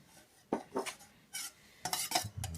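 Melted tallow for candle making is stirred in a pot, with a series of short scraping, clinking strokes at close range and quiet pauses between them.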